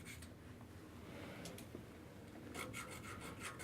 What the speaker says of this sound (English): Get all that corrosion off. Sandpaper or Scotch-Brite works really good as well